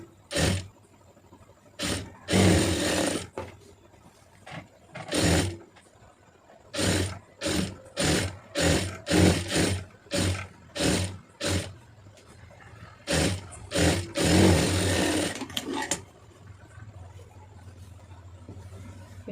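A sewing machine stitches a cross-cut blouse in bursts: two longer runs and many short, evenly spaced spurts with brief pauses between, close and fairly loud, with no talking.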